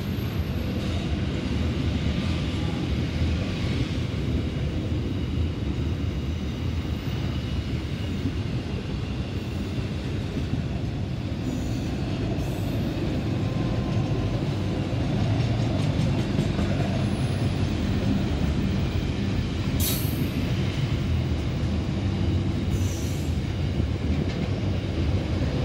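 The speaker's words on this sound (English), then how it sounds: "It's another PN intermodal" A Pacific National intermodal freight train rolls past at Chester Hill, a long, steady rumble of wagons with rail clatter that stays loud and continuous for the whole pass.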